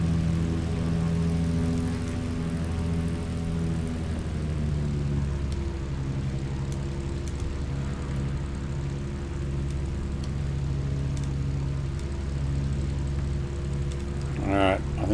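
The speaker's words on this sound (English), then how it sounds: "Hear that gear coming down." Landing gear lowers on a Morane Saulnier MS733 Alcyon in Microsoft Flight Simulator, a subtle shift in tone partway through, set against a steady, loud propeller engine drone that runs the whole time.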